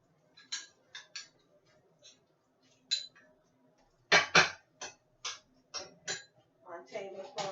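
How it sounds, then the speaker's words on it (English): Salad dressing ingredients are stirred in a bowl in a home kitchen, producing a run of sharp clinks and scrapes in irregular bursts. Some strokes come close and loud, and a brief rustle follows near the end. "Just mix it like that"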